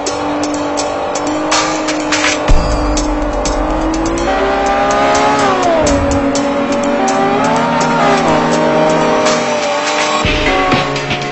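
A racing car in the video game Forza 4 roars loudly and continuously, its engine revving up and down through gear changes while tires squeal and skid, with no talking.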